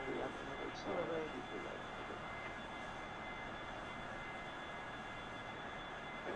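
Aircraft engine spooling up at about 40% thrust as a plane begins to taxi from a parking ramp, a steady broadband roar with a faint whine that holds level throughout.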